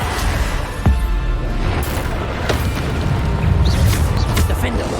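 Blasting-spell explosions in the Hogwarts Legacy video game thump out as deep booms and bursts amid combat effects, while a player's voice shouts over the action.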